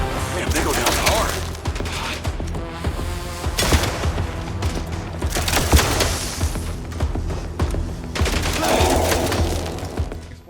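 Pistol shots and gunfire bursts from the video game Mindseye come in irregular clusters of sharp cracks and thumps over layered game noise, close and loud.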